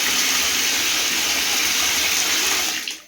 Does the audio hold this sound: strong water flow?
yes